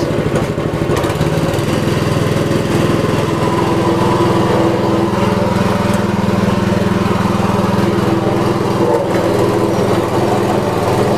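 Steady, loud drone of an engine-driven grinding machine milling dried chili, a continuous buzzing motor roar that holds throughout with no talk.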